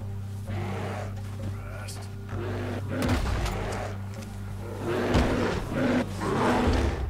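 Bear in Red Dead Redemption 2, low growling roars rising in intensity over a droning background, with a voice talking intermittently.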